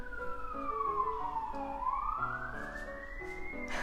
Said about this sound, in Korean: 밖에서 사이렌이 갑자기 울리네